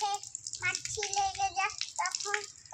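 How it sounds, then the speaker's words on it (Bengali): A child washes a small garden weeding tool with water in a vegetable garden, splashing and rinsing steadily while a voice talks over the running water throughout. "ওই দেখুন কী সুন্দর করে ধুচ্ছে প্রমিতা"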